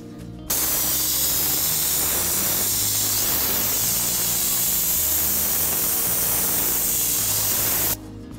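Vycor enV weather resistive barrier being sprayed onto sheathing joints as a light scratch coat, a loud steady hiss that starts abruptly and cuts off after about seven seconds.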